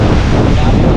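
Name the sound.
strong wind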